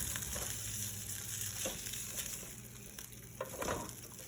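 Turkey bacon frying in a pan while burgers are being made, with a steady close sizzle and a few soft scrapes and taps from turning the strips.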